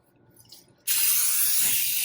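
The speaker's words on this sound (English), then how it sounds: "So I'm gonna get my pan sprayed." A sudden continuous aerosol cooking oil spray hiss starts after a short quiet moment and keeps going steadily onto a pan, close and loud, for over a second.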